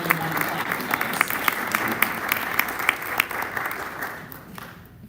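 Audience at a Rotary club luncheon applauds a guest speaker, a steady patter of many hands with a few sharper claps standing out, fading toward the end.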